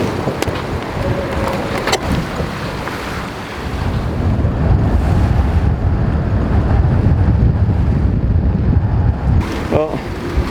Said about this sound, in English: It's been a long time since we've had that much wind right on the nose.